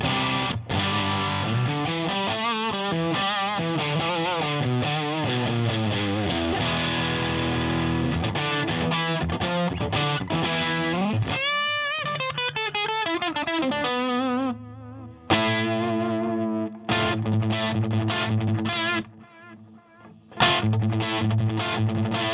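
Electric guitar through a Mosky D250X overdrive pedal set to D mode with gain halfway, playing loud overdriven chords and single-note lines with sustained distortion, a few brief pauses, and no talking.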